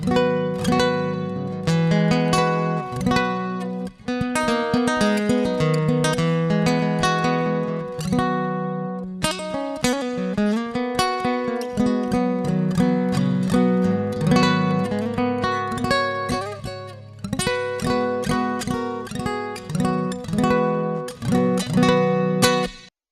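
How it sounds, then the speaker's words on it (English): Strummed and picked acoustic guitar, steady and full, with a smooth compressed tone and a wash of reverb trailing each chord, close and alone. "let me show you how the acoustic guitar sounds."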